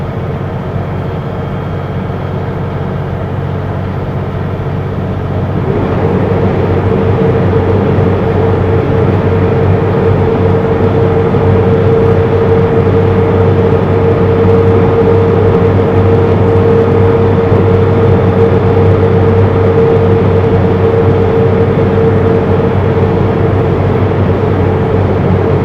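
A Super B truck's engine drones loud and steady down a long 6% grade, then shifts to a deeper, stronger hum as the driver drops a gear and the engine brakes.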